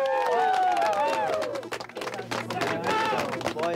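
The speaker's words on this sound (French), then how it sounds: "j'espère que vous allez l'applaudir chaleureusement" A crowd applauds to welcome a boat captain named Vitor at an outdoor event in Portugal: dense, continuous clapping while voices talk loudly over it.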